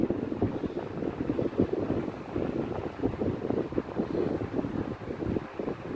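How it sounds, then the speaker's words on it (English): A powerful fan runs steadily nearby, producing a loud, continuous rushing whoosh with a slight fluttering rattle underneath and no voice. "But that is a powerful fan."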